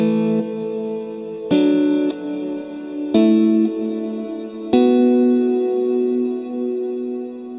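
Electric guitar through a Fender Marine Layer reverb pedal on the large hall setting at its longest reverb time: four loud strummed chords, each ringing out into a long, lush decaying wash.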